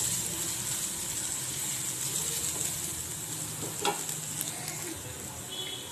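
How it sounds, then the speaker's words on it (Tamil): Ginger, garlic and onion sauté in a pan for cauliflower paratha filling, giving a steady, moderate sizzle with light stirring scrapes and a brief louder clatter midway, no talking. "இஞ்சி பூண்டு வதங்கிடுச்சு."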